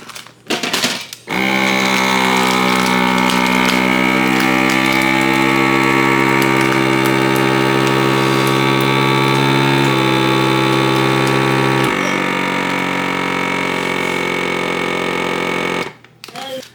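A vacuum sealer's steady mechanical hum drones on for about fourteen seconds, shifting pitch slightly partway through, then cuts off abruptly.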